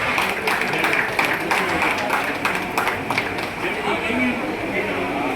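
A crowd at a felicitation ceremony claps on and on while honourees receive mementos, the applause steady and moderately loud, with a voice talking over it.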